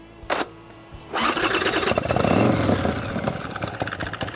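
A customized 1991 Harley-Davidson Softail, formerly a Heritage, barks briefly, then fires up and settles into a loud, loping, uneven V-twin rumble close by, with no talk over it.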